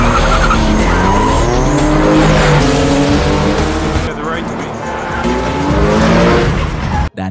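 In a movie scene, cars race through the streets with loud, close engine roar and long, wavering tire squeals and skids. A voice speaks over the action throughout.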